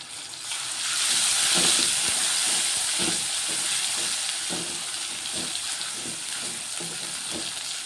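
Onions and green chillies fry in a pan with a loud, steady close-up sizzle, and soft stirring scrapes recur throughout.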